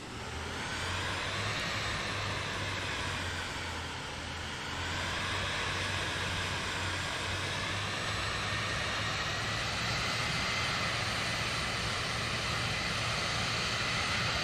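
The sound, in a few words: Cirrus Vision Jet G2 engine taxiing, Microsoft Flight Simulator video game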